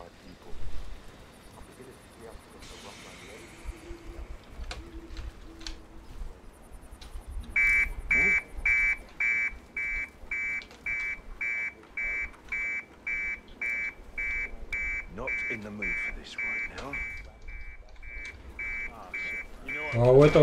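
An alarm switched on in the video game Hitman 3 sounds as a loud, steady run of rapid, evenly pulsed electronic beeps. It follows a stretch of quieter game sounds and someone talking.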